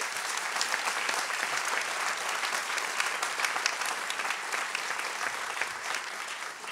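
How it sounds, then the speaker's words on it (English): Audience applause at an arts celebration hosted by a church fellowship, sustained dense clapping from a sizable crowd, steady and even throughout before easing slightly at the end. "Give them a round of applause."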